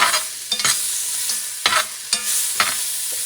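Sliced beef shank sautéing in hot oil over medium-high heat, a steady close sizzle broken by several sharp scraping stirs of a utensil against the pan, no voices.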